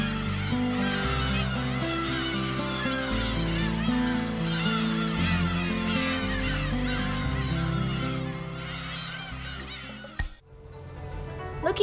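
Dense chorus of seagulls calling over one another at a nesting colony on an island, loud and continuous with many overlapping cries, thinning briefly near the end.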